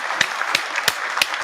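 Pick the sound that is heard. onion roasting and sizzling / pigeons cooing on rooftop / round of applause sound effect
round of applause sound effect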